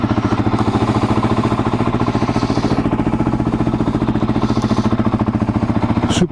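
Suzuki DRZ400 supermoto, a 2003 E-model converted for street use, its single-cylinder engine idling close by with a rapid, even thumping beat, loud and steady, no talking.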